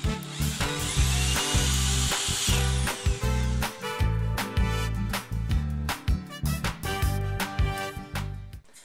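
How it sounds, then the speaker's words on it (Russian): A power drill or screwdriver drives wood screws through a wall bracket into a clay wall, loud close bursts of whirring motor with stops and restarts, building in pitch as each screw bites. "прикручиваем крепление к стене с помощью саморезов по дереву"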